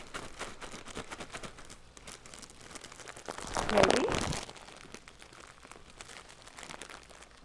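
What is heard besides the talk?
crinkling plastic bag of frozen corn being opened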